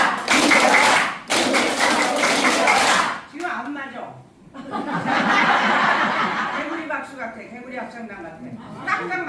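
A group claps in rhythm as part of a clapping exercise at a gathering, with bursts of loud clapping, cheering chants and laughter mixed together.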